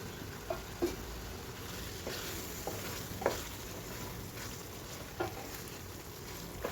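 Fried jackfruit pieces drop into a pan of masala with a steady low sizzle, while scattered soft knocks and stirring taps sound throughout and no voices are heard.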